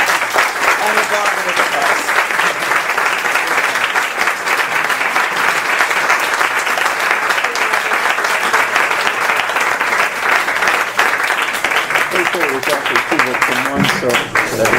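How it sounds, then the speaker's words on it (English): Audience applause at a book talk on literature and anthropology, dense sustained clapping filling the room at steady loudness, with some voices and murmuring beneath it throughout. "before we give another well-deserved round of applause"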